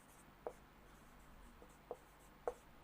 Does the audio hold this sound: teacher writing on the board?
yes